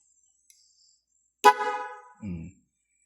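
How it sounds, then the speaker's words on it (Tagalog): A single short car horn honk, close and loud, followed by a brief low mechanical thump, with silence around it, tested after cleaning a PMS relay connection. "Yung busina o."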